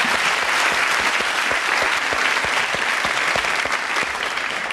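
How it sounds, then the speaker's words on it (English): Loud, dense audience applause from a studio crowd, continuous clapping at full strength throughout without any voices on top. "A round of applause"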